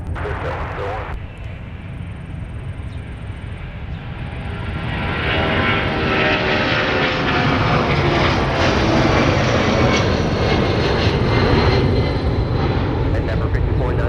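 Airplane landing on runway 30 left at Minneapolis–Saint Paul airport, its engine roar swelling from moderate to loud and holding near, with radio chatter and voices over it.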